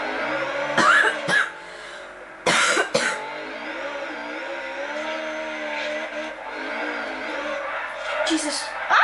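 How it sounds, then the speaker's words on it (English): A Honda S2000 e-brake drifts in Forza Horizon as a racing engine drones steadily, with brief bursts of tire squeal breaking in twice, loud and close, while someone talks and coughs over it. "Try e-brake drift in that."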